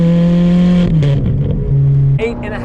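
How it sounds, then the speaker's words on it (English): A 2009 Ferrari 430 Scuderia with an F1 single-clutch gearbox gives a loud, close engine note with steady tonal droning that shifts pitch, then a brief burble. Voices talk over it. "Oh, we can get a little pop on the overrun."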